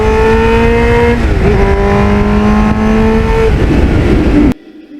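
A 1989 Kawasaki GPX750R Ninja motorcycle revs hard and climbs through the gears, the engine note rising, dropping at each shift and rising again, loud and close, before it cuts off abruptly near the end.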